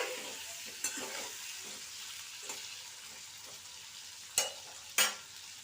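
A soft sizzle from a frying pan as turmeric and salt are stirred in, broken by a few sharp scrapes and knocks as a spoon stirs the contents.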